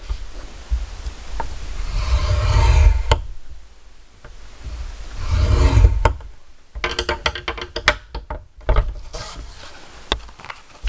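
Cardstock and paper are scored along half-inch lines, giving a faint scraping drag followed by a series of light ticks and taps from handling the tool and paper.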